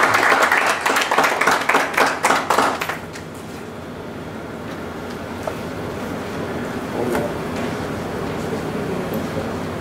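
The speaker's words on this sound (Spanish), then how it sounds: "a Moraima Cabero, para quien pido, por supuesto, un aplauso" Audience applause at a library event on a discography, a loud burst of many hands clapping for about three seconds that then drops away into a steady, noisy room hum.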